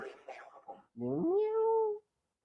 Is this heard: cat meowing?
yes